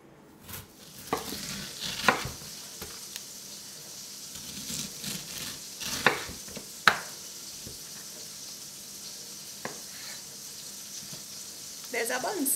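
Beef burger patties cooking in a pan, with a steady soft sizzle and occasional clinks and stirring knocks, while someone speaks over the cooking sounds.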